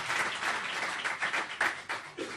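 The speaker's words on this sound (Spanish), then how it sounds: "Dale un aplauso al Rey, claro que sí." Steady applause from a church audience during a discipleship class, a dense wash of many hands clapping at moderate distance, brief and even.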